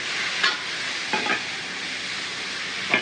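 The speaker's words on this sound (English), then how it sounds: "I'm gonna stir it up a little bit." Jambalaya stirred in a pot, a continuous loud frying hiss with a few soft scraping strokes of the spoon at intervals.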